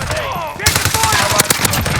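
Rapid automatic gunfire in a Call of Duty: Modern Warfare (2019) Domination match, dense and loud bursts of shots close up.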